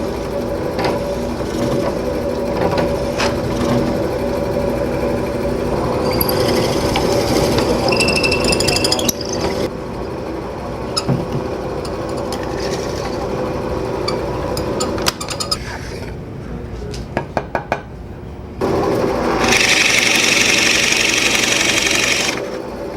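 A drill press cuts a mortise in wood with a steady motor whine and grinding bit noise, broken by brief clicks and a short quieter pause before a harsher, brighter cut near the end.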